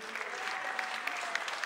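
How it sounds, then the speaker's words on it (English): A live concert crowd applauds a bass player during band introductions, a brisk wash of clapping with a few sharp individual claps standing out, close and lively. "Give him a big round of applause."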